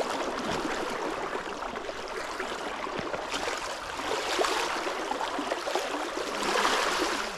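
The River Tame in the UK flows strongly, a steady rushing and gurgling of water close by that carries on unbroken and rises slightly in places, with no voices.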